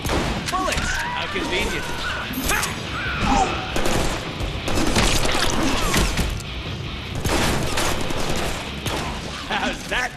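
Loud, continuous gunfire and crashing impacts in the Deadpool video game, with short voiced lines from game characters mixed in among the shots.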